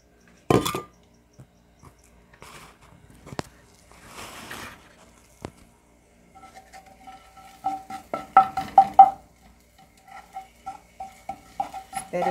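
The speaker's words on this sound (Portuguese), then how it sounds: "Espero esse alho fritar" Garlic frying in oil in a cast iron pot, with scattered scraping and clattering of a utensil against the iron, bursts of light crackle growing busier toward the end, close and fairly quiet.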